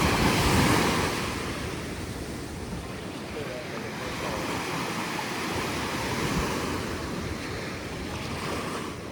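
Ocean waves break steadily at the Queens Beach public surf break in Waikiki, Oahu, a continuous wash of surf with wind rumbling on the microphone and faint talk in the background.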